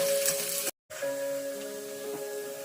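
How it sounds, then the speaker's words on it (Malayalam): Onions fry in hot oil for a Kerala mango pulissery, a steady close sizzle with a faint hum that cuts out for a moment, then resumes. "ഇനി നമുക്കിതിലേക്ക് ഉള്ളി ആഡ് ചെയ്യാം. നന്നായിട്ട് ബ്രൗൺ കളറിലോട്ട് ആകും."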